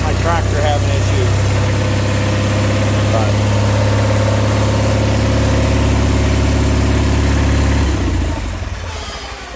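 A John Deere 318 garden tractor engine runs with a rear PTO installed, giving a loud, steady idling drone close by that drops off near the end.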